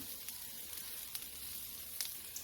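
A cheeseburger patty cooking outdoors on a smash-burger griddle, a faint steady sizzle with a few sharp crackles and pops scattered across it.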